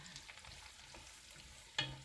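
Vegetables for Cuban congris cooking in a pan over medium-high heat, a faint, soft sizzle with light stirring scrapes and a brief louder clatter near the end.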